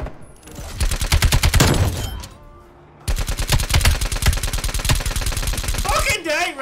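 Rapid automatic gunfire in Black Ops Cold War Search and Destroy, loud sustained bursts with a short lull before a second long volley, ending in a brief electronic warble.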